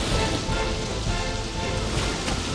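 Heavy, steady rainfall in a dramatised Noah flood story, a dense continuous wash of drops on surfaces, loud and unbroken with no speech.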